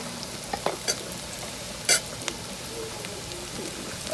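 Garlic mixture stirred in a pan while cooking Ghanaian red red, soft scraping and sizzling throughout with a few sharper utensil clinks, one louder scrape near the middle.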